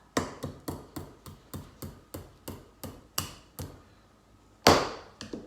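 Hammering on a kids' string art craft board: a steady series of about a dozen sharp, close taps at a brisk, even rhythm, with one heavier, louder strike near the end, no talking over it.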